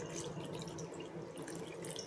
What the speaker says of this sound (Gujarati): હવે આપણે એમાં અડધો ગ્લાસ જેટલું પાણી નાખીશું।